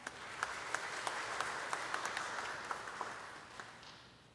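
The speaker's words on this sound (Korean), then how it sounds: "박수 부탁드립니다" Audience applause at a university vision ceremony, a steady wash of many hands clapping with some sharper individual claps on top, distant and moderately quiet, continuing for several seconds.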